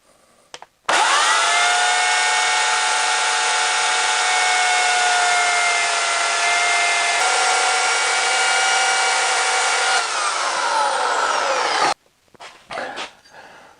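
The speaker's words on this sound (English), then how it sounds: "So I am going to take my chainsaw and just slice off a little bit of that." A loud chainsaw starts abruptly and screams steadily for about eleven seconds, pitch dropping slightly as it bites into a wood bowl blank, then cuts off.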